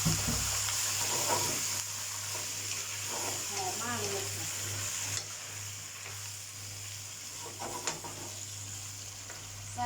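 Cabbage stir-frying in a hot pan for a fish-sauce dish, with a steady sizzle and the scrape and clatter of a spatula tossing the leaves, moderately close.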